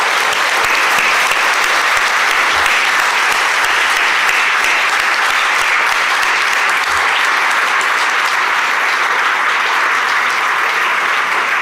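Sustained applause from a large audience at an awards ceremony fills the room, loud and even from start to finish without a break.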